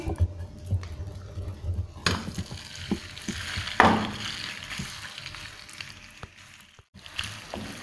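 Chicken pieces dropped into four tablespoons of hot oil in a pan for chow mein, giving a steady close sizzle with stirring clatter and a brief sharper burst midway.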